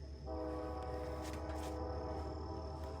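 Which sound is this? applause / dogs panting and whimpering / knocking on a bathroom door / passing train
passing train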